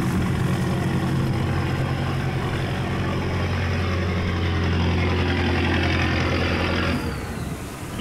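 Diesel engines of wooden rice boats idle together while waiting to enter a lock beside a steel barge, a loud, steady low rumble that thins out near the end.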